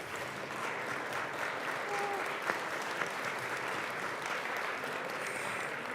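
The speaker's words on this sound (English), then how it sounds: "let's give them a round of applause" Steady applause from a crowd of legislators and guests in the Colorado House chamber, a continuous even clapping that fills the whole span with a couple of sharper claps standing out.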